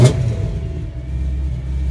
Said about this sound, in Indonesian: Ini V8, tapi V8 masih bercampur dengan suara garingnya BMW.